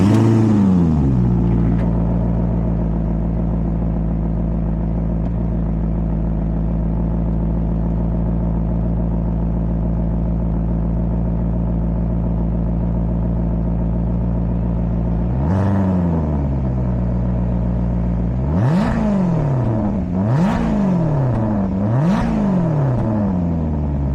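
A Maserati GranTurismo engine idles in a deep steady drone, then flares up in one rev and a burst of three quick blips that rise and fall, loud and close.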